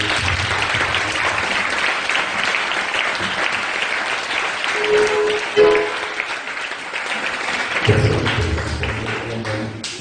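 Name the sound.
congregation applauding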